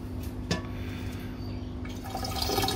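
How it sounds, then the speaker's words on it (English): Wash water being poured into a glass flask while recovering gold from CPU slots, a steady close trickle with a small glassy knock near the start and the flow building louder toward the end. "I'll see if I can pour this without smashing anything into the flask."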